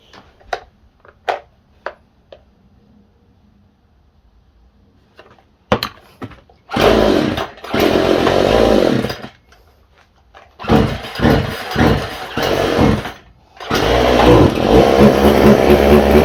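A neglected chainsaw's engine after its idle screw is adjusted, a few faint clicks and then a loud, close engine roar that revs up, dips and surges again in uneven bursts.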